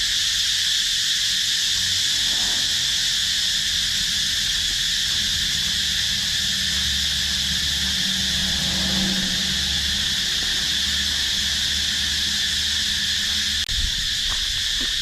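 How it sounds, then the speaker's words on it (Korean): Cicadas chirp in Koh Samui as a loud, continuous high drone with strong steady bands. Faint low rumbles sit beneath it and a brief click comes near the end. No one speaks. "와, 저 매미 소리 끝내준다."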